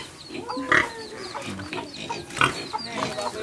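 Pigs grunt and squeal on a small farm pigsty in the Philippines, short close calls rising at intervals amid faint clucking fowl and background voices.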